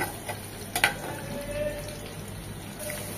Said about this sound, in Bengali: এই প্যানে আমি আরো 1 চামচ তেল দিচ্ছি, 2 চামচ রসুন কুচি।